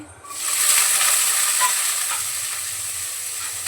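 Cumin seeds and chopped green chillies hit hot oil for a potato bhaji, setting off a sudden loud hissing sizzle that stays steady and close before easing slightly, with no talk.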